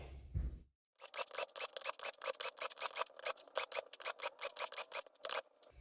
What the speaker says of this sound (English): That was just to deburr the tops there so everything sits nice and flat